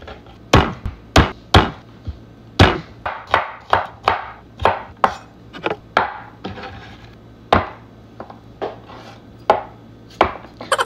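Knife blade chopping garlic on a cutting board for pork sinigang, a run of sharp, close thwacks in an uneven rhythm, about two dozen strikes with brief pauses, no voices.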